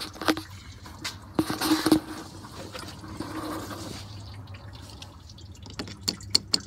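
Coolant drains from the radiator of a 2003 Dodge Ram 1500 5.7L Hemi, heard as soft trickling and irregular drips into a catch pan, with a few louder splashes.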